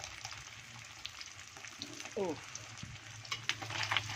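Patin catfish fries in oil in a pan with a soft, steady sizzle, joined by a few light scrapes and clinks of a utensil near the end.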